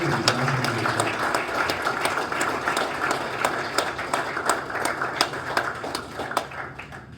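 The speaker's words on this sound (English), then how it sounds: "If we could give one more round of applause to Officer Jeremy Wolfman and Jonathan Mason." Round of applause from a city council meeting audience honoring two people, steady dense clapping filling the room throughout at moderate level.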